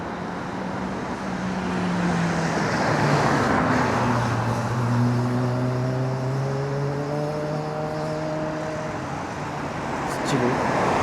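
Street traffic with a Porsche passing, a steady roadway roar with an engine note rising and falling as a car goes by, fairly close and loud, while people speak intermittently.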